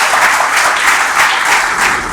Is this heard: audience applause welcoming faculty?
yes